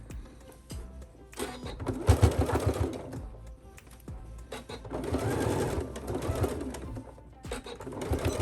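A sewing machine stitches in the ditch along a seam of a McCall's M8506 garment, its motor pulsing in uneven close bursts with soft mechanical chatter.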